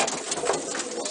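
Pigeons in a breeding loft, a soft continuous murmur of cooing close by, steady and moderately loud with no talking.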